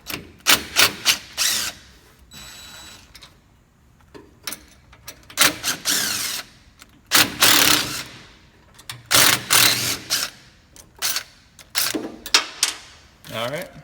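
Bolts being loosened and removed from a diaphragm housing on a CB150/CB450 actuator valve: repeated bursts of short metallic ratcheting and tool clatter, several loud separate spells with pauses between them, close up.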